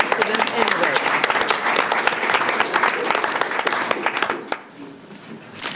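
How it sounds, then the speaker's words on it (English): An audience at a school district board meeting breaks into loud, sustained applause, many hands clapping densely for several seconds before it tapers off with a few scattered claps and murmured voices near the end. "Well, should we clap for them?"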